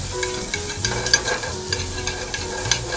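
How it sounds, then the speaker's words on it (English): Garlic and shallots frying in a pan, with a dense close sizzle and frequent light spatula scrapes and taps in an irregular stirring rhythm, no voices. "I can add the garlic. I can add the shallots."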